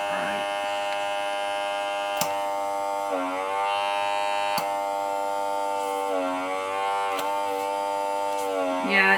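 A budget vacuum sealer's small motor runs continuously with a buzzing whine that dips and rises in pitch as the suction load changes, punctuated by a few sharp clicks.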